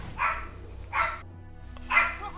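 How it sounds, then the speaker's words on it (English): A dog named Thunder barks three times, sharp mid-pitched woofs spaced about a second apart, fairly close and alone against a quiet low hum. "Thunder is angry. But yeah, Thunder's our dog."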